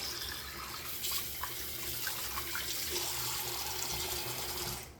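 Tap water runs steadily into a sink, rinsing shave soap off, a soft, even splashing rush that continues unbroken for several seconds.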